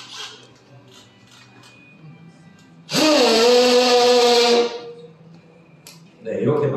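A Milwaukee 12V hammer drill run in hammer mode lets out one loud, harsh whining burst of nearly two seconds, then starts up again at the end, with quieter handling noise before it.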